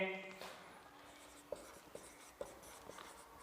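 Chalk or marker taps and scratches on a board during a math lesson on circles, a few sharp soft strokes spaced irregularly against a faint, quiet room background.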